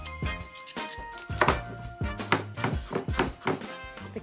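A knife chops a carrot on a board in a kitchen, sounding as a brisk, irregular run of sharp close taps and thunks with brief pauses between bursts.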